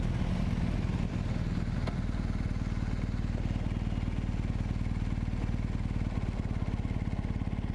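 A BMW R1250GS motorcycle on the move, its engine giving a steady, close, even drone with a rapid regular pulse and constant wind and road noise throughout.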